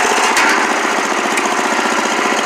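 A Craftsman or Murray riding mower with a 4-speed runs close by, its engine a loud, continuous, rapidly pulsing chug with no let-up and no voices.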